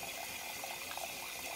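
A descaled DeLonghi Perfecta espresso machine, fitted with a replaced infuser and a new water pump, draws plain water through during a test, giving a faint, steady gurgling trickle of liquid.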